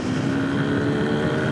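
A small 200 cc enduro motorcycle from around 2007 or 2008 runs steadily close by, its engine giving a continuous buzzing drone with no speech over it.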